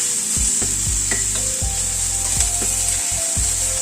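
Crushed spices frying with onions in a pan for a roti and paratha vegetable dish, a steady close sizzle broken by repeated scraping stirs of a spoon against the pan, no talking.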